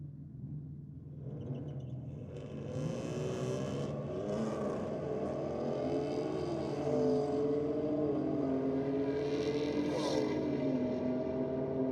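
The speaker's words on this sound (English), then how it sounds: "The Mustang down there in the Rocket lane taking on that BMW that Stewie mentioned before." A Mustang and a BMW drag racing side by side at a night drag event in Sydney, distant engines rumbling and revving as they build and sustain power down the strip.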